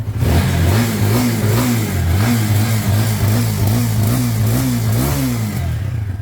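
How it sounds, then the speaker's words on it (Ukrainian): Geon CR6Z motorcycle engine running loud and close, its steady mid-pitched drone rising and falling in repeated revs for the whole stretch, with no voices over it. "Запустився мотик з півтика, слухаємо зі сторони кришки щеплення."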